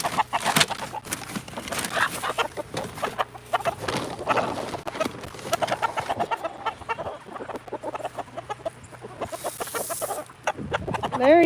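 Backyard chickens clucking close by, a busy stream of short, overlapping clucks and squawks with scattered pauses and a brief louder burst near the end.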